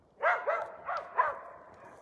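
Laika hunting dogs bark on a bear hunt, four quick yelping barks a short distance off in a quiet outdoor setting, with no one speaking.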